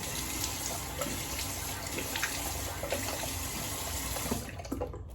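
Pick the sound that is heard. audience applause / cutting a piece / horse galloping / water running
water running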